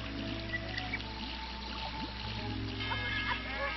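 Water in the Chao Garden of the video game Sonic Adventure 2 trickles and splashes softly, with gentle pouring sounds over a layer of steady game music.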